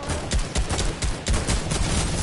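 A dense, rapid burst of gunfire crackles continuously, repeated shots blending into a noisy barrage throughout, fairly loud with no voices.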